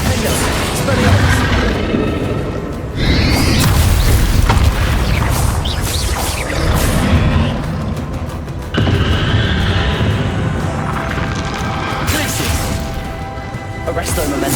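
Spell-casting combat in Hogwarts Legacy: booming blasts, crashes and bursts of magic fire in rapid succession, loud and close, with sharp impacts at intervals and a brief lull midway.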